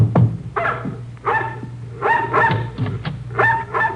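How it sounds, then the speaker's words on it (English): A dog barks and yips repeatedly at close range in a radio drama scene, loud, steady bursts of barking with short gaps and no talk over it. "the dog barking at our heels"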